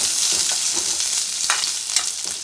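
Small onions and curry leaves fry in hot oil for a fish curry, giving a bright, crackling sizzle close by, with a few soft stirring scrapes and no voices.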